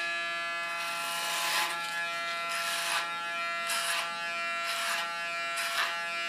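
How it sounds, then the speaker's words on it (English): Electric hair clippers buzz in repeated short bursts as they cut hair over a comb for an ultra-short side, each pass rising and dropping against a steady background hum, close and alone without talk. "I'll start with clipper over comb."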